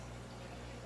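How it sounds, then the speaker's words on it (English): Water being poured into a fish tank used for hatching rainbowfish eggs, a steady close rush of splashing liquid running continuously without any talk. "Let me get some water in here"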